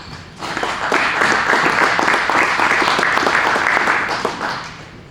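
Applause for a speaker being introduced, a fairly thin, even patter of clapping from a modest audience that swells briefly, holds, then tapers off.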